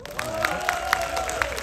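Brief burst of audience applause and cheering at a stage event where cast members are introduced one by one, a crowd clapping fairly distantly and steadily for under two seconds.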